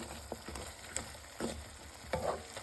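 Grated coconut dropped into a frying pan while making pirandai thogayal: a faint, steady sizzle with a few light stirring taps, brief and close.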